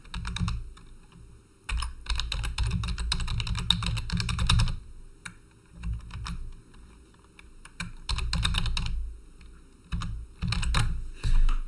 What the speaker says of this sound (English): next we will type in our name. And also our email ID.